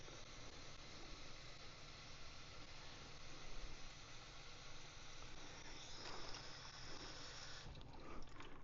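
Tap water runs from a sink into a Brita filter pitcher, a steady faint hiss of flowing water that rises slightly in pitch as the pitcher fills.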